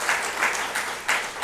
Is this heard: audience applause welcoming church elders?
yes